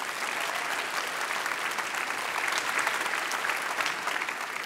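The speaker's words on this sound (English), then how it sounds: "Give a hand of applause." A large audience at an academic year opening ceremony applauds steadily for a guest speaker, with sustained, even clapping that fills the space from start to finish.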